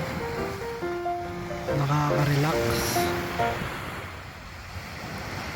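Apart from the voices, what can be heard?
ocean waves on the beach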